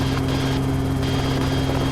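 A helicopter in flight heard from close by, with the loud continuous rotor thump and engine drone filling the whole moment, steady and unbroken.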